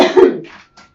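A single sharp cough up close, followed by a short throaty exhale.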